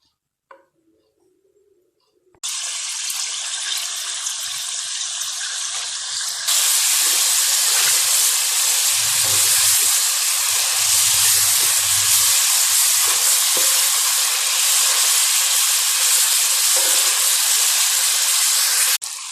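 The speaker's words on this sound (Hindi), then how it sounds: "और अब मैं इसे तकरीबन 5 से 10 मिनट तक इसी ऑयल में फ्राई करूंगी।" Chicken frying in oil over medium heat for Hyderabadi chicken karahi: after a quiet start a loud, continuous hiss and sizzle bursts in and holds steady close by, with a few low knocks in the middle and no talk.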